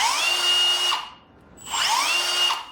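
A Milwaukee 12-volt cordless drill whines up from a slow spin to a high-pitched top speed, stops briefly, then ramps up again in a second loud, close burst.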